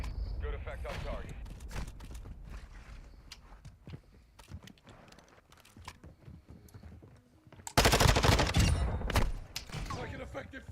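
Call of Duty gameplay gunfire crackles in scattered shots, then erupts into a dense, loud burst of rapid fire lasting about a second and a half, with voices talking over the action.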